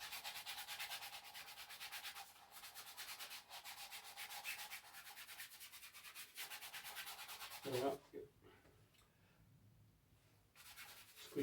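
A brush scrubbing purple paint onto a surface, giving close, rhythmic rasping strokes that pause briefly before resuming.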